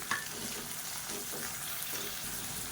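Onions for idli masala sauté in a hot pan with a continuous close sizzle, broken by soft scraping stirs at intervals. No one speaks.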